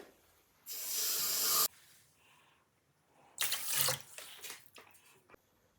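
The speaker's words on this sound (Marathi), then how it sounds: "इथे मी 1 वाटी तांदूळ घेतले म्हणून 2 वाट्या पाणी घालते" Water pours in two separate bursts into a pressure cooker holding rice for jeera rice, a close, steady gushing splash with a short quiet gap between the pours.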